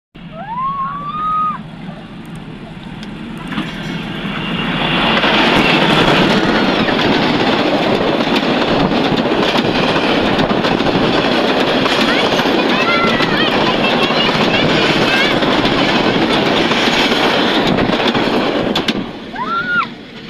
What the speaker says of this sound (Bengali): ট্রেন আসতেছে, ট্রেন ট্রেন